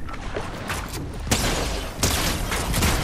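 Rapid bursts of video game gunfire in Fortnite crackle loudly and continuously, with sharper volleys breaking in about every second, dense like an intense firefight.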